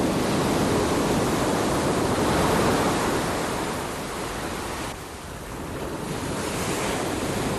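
Ocean surf and strong wind on the New Zealand coast, a dense continuous roar of breaking waves with wind buffeting the microphone, easing briefly midway before building again, with no voices.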